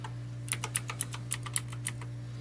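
A mechanical computer keyboard under repair is typed on in a quick, irregular burst of crisp key clicks, close and clear over a low steady hum, with no talking.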